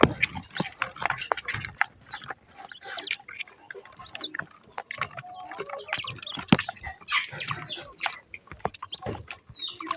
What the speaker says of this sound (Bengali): 5টি কোয়েল পাখি। অনেকদিন কোয়েল পাখিগুলো দেখানো হয়নি।